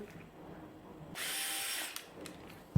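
A PARKSIDE Rapidfire 2.0 cordless drill runs in one steady loud whir for under a second, starting and stopping abruptly, with faint clicks after it.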